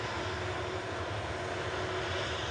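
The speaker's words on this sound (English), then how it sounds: "This is the Ryanair going to Brussels Charleroi" Ryanair airliner bound for Brussels Charleroi at Manchester Airport, a constant broadband engine roar heard at a fairly distant, even level with no voices.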